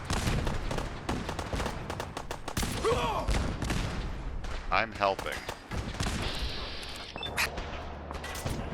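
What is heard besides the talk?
explosions and gunfire in video game Fallout 4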